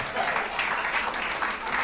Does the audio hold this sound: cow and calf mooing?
no